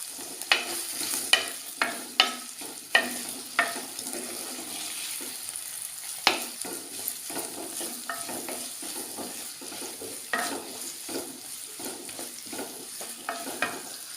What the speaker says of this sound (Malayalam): കുറച്ച് കറിവേപ്പില. ഇത് നന്നായിട്ട് വഴറ്റിയെടുക്കണം.